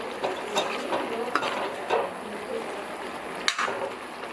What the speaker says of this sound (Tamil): அப்படியே ஒரு பெரட்டிட்டு எடுத்துடலாம்.